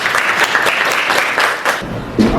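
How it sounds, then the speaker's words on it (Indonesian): A classroom group applauds for the first student group about to present, a steady dense wash of clapping from many hands filling the room, with a voice briefly heard near the end. "Beri tepuk tangan untuk kelompok 1."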